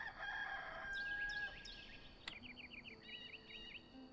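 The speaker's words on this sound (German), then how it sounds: "Man hat ja auch den Hahn gehört." A rooster crows at daybreak in the survival video game Enshrouded, a faint, slightly distant cock-a-doodle-doo followed by softer chirping bird calls, with no talking.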